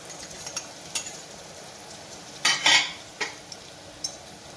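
Finely chopped tomato and onion get stirred in a pan for moong dal, with a spoon scraping and clinking against the metal in short bursts, two louder scrapes midway, over a faint sizzle.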